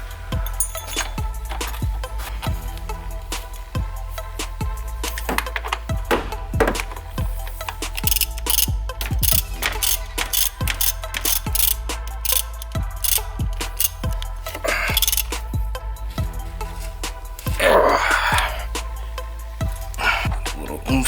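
Tightening the last long bolt of a transmission mount on an Acura TSX/Honda Accord, heard as a steady run of close, loud metallic ratchet clicks and clanks with brief pauses, no talk.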